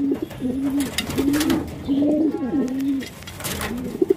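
Racing pigeons coo in repeated low, rolling calls, several overlapping phrases close by with short pauses between them, over a faint background of other birds.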